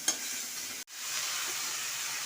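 Greens dropped into lightly sautéed onion and garlic with fish sizzle loudly, a sharp clatter at the start, a brief gap, then a steady close hiss of frying.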